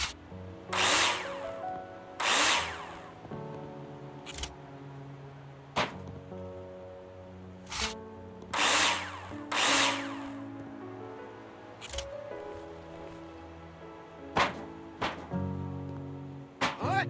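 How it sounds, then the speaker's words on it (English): Power drill driving screws into metal profiles for drywall framing in the Builder Simulator video game: repeated short whirring bursts at irregular intervals, with clicks and clunks between, loud and close with no talk. "Now place them in the hologram and screw them in with a drill."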